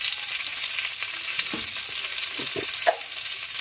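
Curry leaves and green chillies frying in hot oil give a loud, steady close sizzle, with a few brief stirring clinks near the end and no talking.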